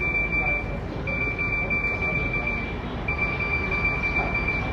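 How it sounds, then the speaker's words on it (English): Electronic alarm on a scooter at a flight-simulation expo show floor in Providence, beeping in repeated high-pitched bursts over a loud, busy crowd din with voices talking throughout. "Oh, the car alarm's going off."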